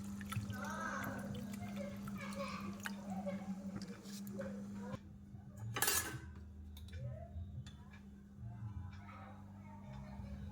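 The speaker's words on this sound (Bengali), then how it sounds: "এবার আমি জল দিয়ে দিচ্ছি।" Water is poured into a pot of chicken curry with potatoes after the meat has been browned, giving a short splashing gush over a low kitchen hum and faint clinks of utensils.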